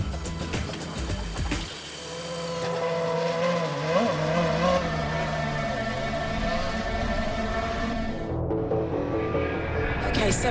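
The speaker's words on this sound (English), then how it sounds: "I have a Formula One car alongside me" A Williams Formula One car runs at speed alongside another car travelling at about 70 mph in third gear, giving a loud, steady engine roar with a shifting tonal whine that cuts off sharply near the end.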